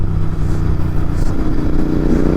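A Royal Enfield Continental GT650 motorcycle runs on the road with a loud, continuous, throbbing engine and exhaust rumble, heard close and steady throughout with no talk.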